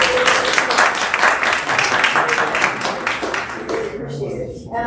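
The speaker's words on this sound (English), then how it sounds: "I'd like to give them a round of applause for this." An audience claps at a city council annual retreat, a short burst of dense, fairly loud applause that thins out toward the end as a voice comes in.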